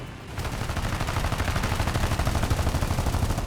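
Rapid continuous machine-gun fire in the tank combat video game War Thunder, a steady dense rattle of shots that runs unbroken and loud after a brief quiet opening.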